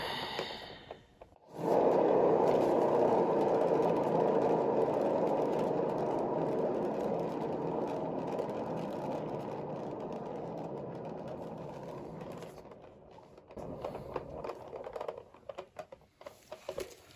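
Paint pour canvas turning on a spinner, a steady whirring hum that starts abruptly, holds for about ten seconds, then winds down and stops, heard close with no talking.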